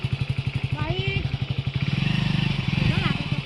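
A motorcycle engine idles with a steady rhythmic putter, then revs up slightly, with people talking nearby over it.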